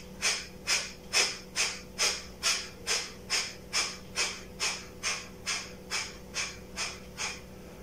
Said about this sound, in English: So one inhale and 60 strokes of exhale you can do.